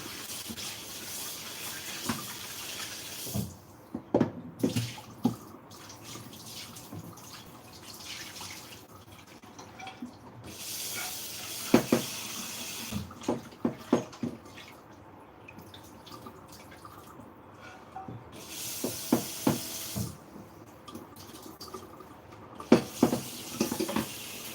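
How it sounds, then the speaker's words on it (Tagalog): Water is added to a pot of pork ribs adobo, heard as intermittent splashes and drips in short bursts between quieter stretches of faint kitchen background. "Maglagay ako ng konting tubig."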